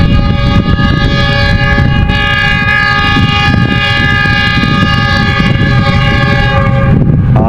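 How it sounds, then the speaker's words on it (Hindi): Pak Business Express passenger train arriving behind a G40 locomotive, its loud sustained multi-tone horn blaring close by over the heavy rumble of the moving train, continuous for the whole stretch. "ये है जी मच अवेटेड पाक बिजनेस एक्सप्रेस, जिसका अभी इफ्तिताह लटका पड़ा है और यहाँ ये G40 के साथ जानियाँ पहुँच रही है।"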